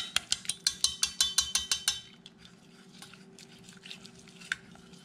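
A spoon stirs melting milk chocolate chips in a pot. About ten quick, evenly spaced taps and scrapes come first, followed by softer, slower stirring and faint scraping, close by.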